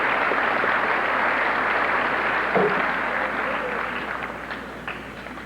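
An audience at a 1991 senior academic recognition ceremony gives sustained applause that stays loud and even, then fades slightly toward the end, with a voice faintly audible over it.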